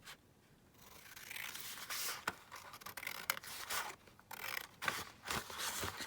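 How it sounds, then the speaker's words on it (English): Scissors snip and rub through a paper envelope flap in a quiet room, giving a series of close, soft cutting and scraping strokes. "and then I'm just going to cut our flap down again."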